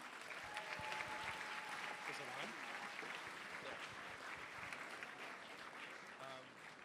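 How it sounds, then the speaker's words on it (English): Steady crowd applause greets an incoming panel at a CPAC Israel conference, a broad continuous patter of clapping with faint voices and a brief tonal sound threaded through it, fairly even in level. "Let's have a round of applause for our next panel."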